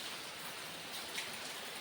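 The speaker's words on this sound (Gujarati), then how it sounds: "અત્યારે ફૂલ પડે વરસાદ" Heavy rain pouring down at night over a flooded village cattle shelter, a dense, even hiss of water, steady and fairly soft, with no voices.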